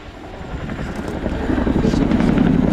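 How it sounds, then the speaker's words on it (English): Chinook helicopter opening its flying display at RIAT 2023, a loud, close rotor roar with rapid blade chop that swells steadily as the aircraft pulls up to the vertical. "The Chinook pulls up to the vertical to begin the 2023 display."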